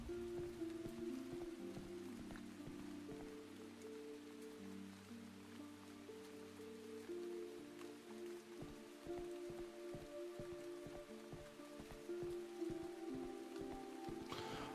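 Steady rain falls in a neon-lit horror video game, a soft continuous patter with low droning ambience underneath, quiet and unbroken throughout.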